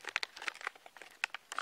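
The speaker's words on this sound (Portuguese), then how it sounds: "vamos aqui no envelope. Você abre." An SOS Vitta survival ration envelope is torn open, a quick burst of close, crisp plastic crinkles and rustles in short irregular bursts, faint and without talk.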